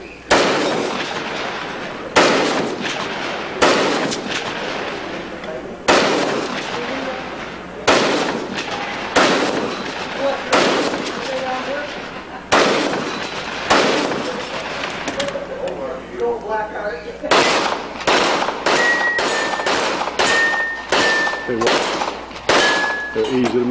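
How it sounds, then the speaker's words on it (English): Repeated loud rifle shots ring out at a Wild West shooting show, each sharp crack followed by a metallic ring of steel targets, fired in a steady string that quickens near the end, with a crowd and a voice audible between shots. "It's going to start with the rifle."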